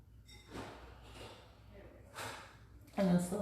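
Slow, deep breaths during a lower-body yoga stretch, several soft airy inhales and exhales spaced apart, the last one louder and closer, with a voice heard at the end.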